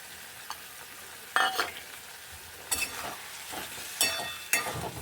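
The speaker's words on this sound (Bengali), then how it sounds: "যতক্ষণ না এই গ্রেভিটা একটু পুরো করা হচ্ছে ততক্ষণ বন্ধু এটাকে একটু কষতে হবে ভালো করে" Soybean kofta curry gravy sautéed and stirred in a pan, a low steady sizzle broken by several louder scraping strokes of a spoon against the pan, close and with no talk.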